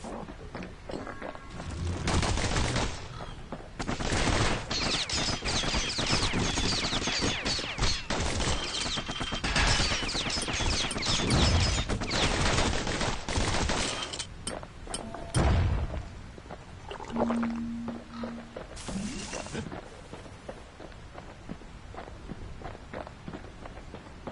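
Rapid bursts of gunfire in the action game Bastion, dense and loud volleys alternating with brief lulls and running footsteps, mixed with game sound effects over about twenty seconds.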